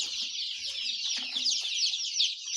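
Many black chicks and chickens cheep and cluck together in a dense, continuous chorus, with a few low clucks standing out nearby.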